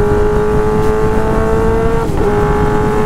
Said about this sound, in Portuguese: É uma sinfonia esse escapamento